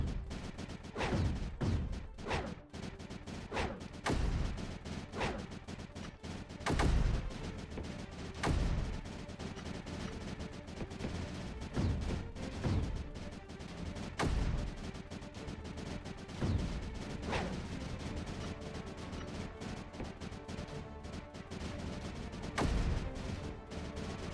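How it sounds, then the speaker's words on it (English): Mining cannons in the strategy game Creeper World 4 fire in quick, irregular bursts of sharp thuds and cracks over a continuous dense background rumble. "The mining cannons are good at dealing with small amounts of creeper by firing quickly and specifically"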